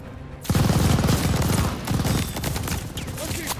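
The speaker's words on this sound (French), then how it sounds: "Éliminez-moi cette mitrailleuse!" Sustained machine gun fire from the World War II shooter Call of Duty: Vanguard, a loud, dense rapid rattle that begins abruptly and continues steadily with slight surges, with possible faint voices mixed in.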